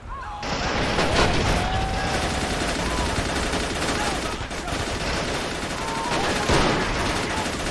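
Dense, continuous gunfire from a Men of War: Assault Squad battle on the Eastern Front in June 1941, loud and sustained throughout, with sniper shots mixed into a steady rattle of weapons fire and occasional heavier bursts.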